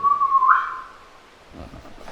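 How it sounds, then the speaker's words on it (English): A single loud, sharp whistle rings out briefly inside Nothe Fort in Weymouth, rising slightly in pitch before fading into quiet background noise. "That was a full on whistle."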